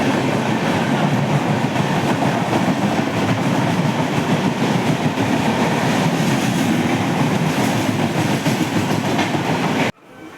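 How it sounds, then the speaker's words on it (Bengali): Duronto Express train rushing past at high speed, a loud continuous roar of wheels and rushing air with clickety-clack rhythm that holds steady and then cuts off abruptly near the end. "একটা দুরন্ত এক্সপ্রেস ছুটে এলো।"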